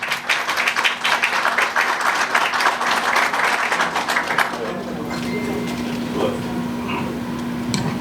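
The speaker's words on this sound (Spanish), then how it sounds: "Un aplauso para el señor Luis." An audience applauds the speaker Luis Carvajal at a formal talk, with dense clapping for several seconds that thins and fades into room tone and a faint voice.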